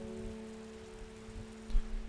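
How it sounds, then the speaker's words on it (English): Rain falls steadily in the Strange Horticulture video game, a soft, even patter beneath a faint sustained hum, with one louder thump near the end. "I love the sound of rain."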